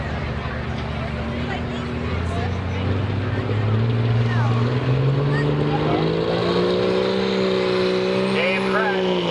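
A pulling truck or tractor engine screams at sustained high RPM during a truck and tractor pull, its loud harmonic roar climbing steadily in pitch over a constant crowd-and-arena din.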